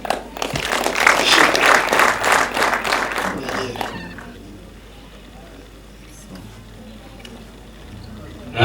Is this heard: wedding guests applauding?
yes